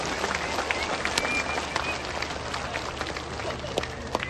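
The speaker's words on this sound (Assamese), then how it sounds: "সকলোকে হাত চাপৰিৰে তেখেতক আদৰণি জনাবলৈ অনুৰোধ জনাইছোঁ।" Crowd applause welcoming the Chief Minister at a public event in Assam, a dense steady wash of many hands clapping throughout with scattered sharper claps, fairly loud and continuous.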